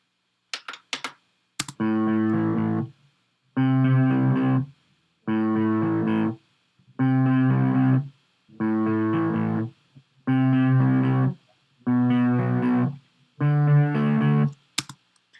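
Eight evenly spaced repetitions of the same guitar riff recorded through an MXL V250 microphone, each a short strong burst separated by silence, with a few small clicks at the start and end.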